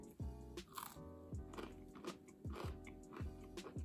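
Repeated crunchy bites and chewing of a freshly baked, chewy cookie, close and distinct, with a steady rhythm of several bites over a few seconds and no talking.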